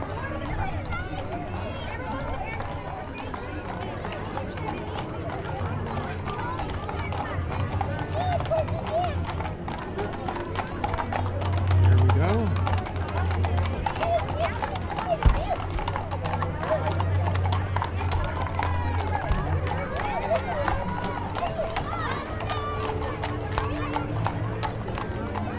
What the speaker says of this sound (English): we have horse riders from Wheatland